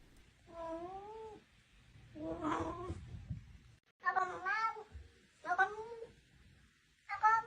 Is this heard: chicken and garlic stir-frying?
no